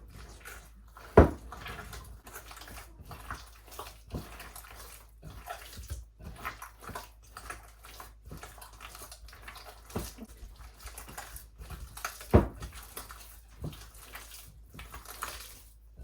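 Hands squish salt water into a wet bread dough of flour and water, making soft, irregular wet squelches and sloshes close by, with two sharper knocks standing out.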